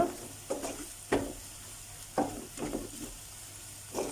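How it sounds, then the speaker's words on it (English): Curry powder sizzling as it fries in a pan, stirred in several distinct scraping strokes about half a second to a second apart, close and steady over a constant frying hiss, with no talking. "Let's give it a stir."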